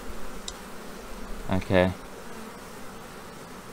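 Honey bees buzz steadily around a hive frame during hive work after a swarm, a continuous drone that briefly dips under a short spoken word.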